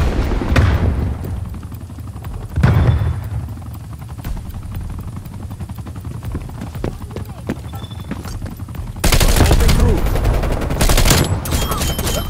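Gunfire in Call of Duty Black Ops Cold War, with bursts of shots over a busy battlefield bed that has a steady engine drone, and a loud, dense volley near the end.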